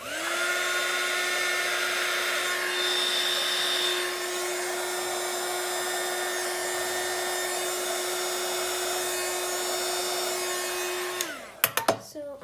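A heat tool blows steadily for about eleven seconds, drying blue Distress and Oxide ink on a handmade card, with a constant whining motor tone and airy rush before it clicks off and a few light taps follow.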